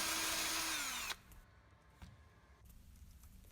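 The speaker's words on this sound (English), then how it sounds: "Now I'm using a different, finer brush to clean the surface on the very edge." A power drill fitted with a fine wire brush whines loudly for about a second while cleaning the rusty edge of an Acura TSX rear quarter panel, then spins down and stops, leaving faint handling sounds.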